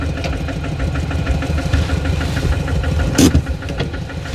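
A farm tractor engine runs steadily close by, a throbbing mid-pitched idle with an even rhythmic pulse and a short louder burst near the end.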